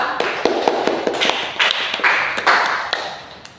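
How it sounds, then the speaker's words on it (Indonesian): A class of students claps for a student group in a classroom, a sparse burst of sharp individual claps that grows into a brief denser round of applause. "Kita tepuk tangan untuk kelompok 2."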